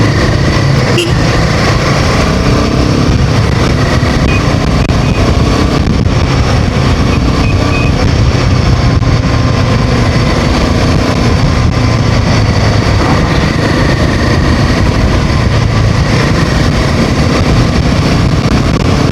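A Royal Enfield Himalayan 450 motorcycle engine revs loud and close in a continuous, high-pitched drone that holds fairly steady, with no talking.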